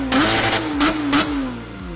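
Porsche 911 GT3 RS engine revving close up: a few sharp throttle blips rising and falling in pitch, then the revs settling back toward idle, loud and free of talk.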